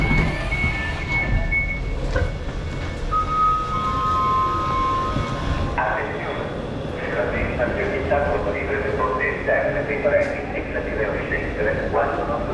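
A modern passenger train rolling through Sicily toward Taormina, with a continuous low rumble and rattling of the carriage, a steady wheel drone and faint high tones, while a voice talks over it.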